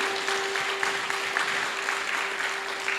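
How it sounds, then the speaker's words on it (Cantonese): A church congregation at a Sunday worship service claps together in sustained applause for about three seconds, dense and fairly loud, with a steady tone running underneath. "俾上帝嘅掌聲，"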